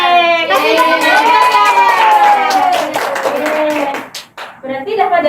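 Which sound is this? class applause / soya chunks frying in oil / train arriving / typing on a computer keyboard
class applause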